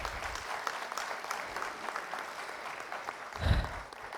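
Award ceremony audience giving a round of applause for a metro rail corporation's award, steady moderate clapping throughout with a brief thump near the end.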